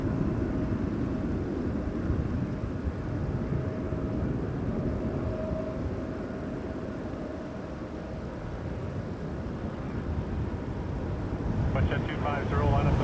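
Steady, broad roar of an Air Canada Boeing 787 Dreamliner jet airliner from LAX at Toronto Pearson Airport, a continuous distant rumble holding level throughout with a slight swell near the end.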